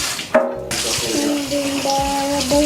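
Tap water running steadily into a sink for washing in a home kitchen, a close continuous splashing rush with a ringing tonal hum and a brief interruption near the start.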